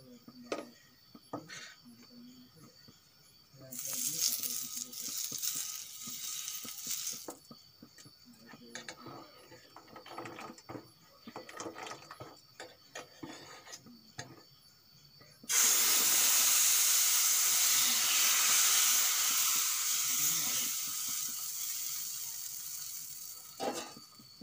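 Thin dosa batter sizzles and hisses on a hot pan, a loud steady frying burst after quieter intermittent hissing and clatter, with a voice talking at times.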